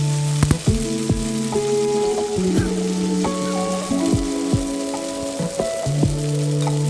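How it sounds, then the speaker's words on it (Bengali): Batter fries in white cooking oil for a quick snack, crackling and sizzling close up with a busy, continuous spatter and a few sharper pops. "দিয়ে দিলাম ব্যাটারটা সাদা তেল দিয়ে"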